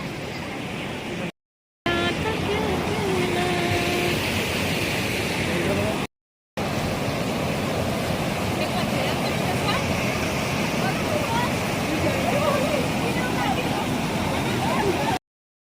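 River water flowing at a chilly spot near Manali, a steady broad rushing wash heard close and continuous, broken by brief cuts, with people talking over it.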